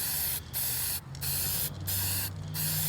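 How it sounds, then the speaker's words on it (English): An aerosol can mists clear gloss lacquer onto a guitar body about 12 to 14 inches away, giving four steady hissing bursts, each close to a second long, separated by short pauses with a low hum beneath. "I'm making nice little steady overlapping sprays. About 12 to 14 inches away right now. Just misting it over."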